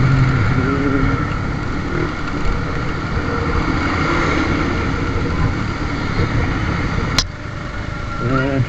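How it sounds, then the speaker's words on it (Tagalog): Road traffic on a Philippine street near a boat landing, with cars and motorcycles, forms a steady, loud engine rumble throughout, one sharp knock near the end, and voices talking faintly underneath. "Eto na ang traffic."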